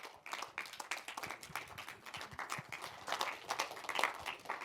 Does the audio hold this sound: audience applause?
yes